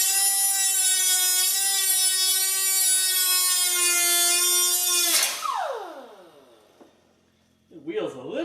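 A cutoff wheel grinds through a steel front bumper on a 1976 Mazda RX in a long, loud, even shriek, then winds down and stops, with a voice speaking at the end.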